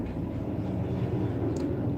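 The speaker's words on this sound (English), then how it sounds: "Large helicopter going over my house." A large helicopter passes over a house, giving a steady low rumbling drone that holds fairly loud and even throughout, with no voices over it.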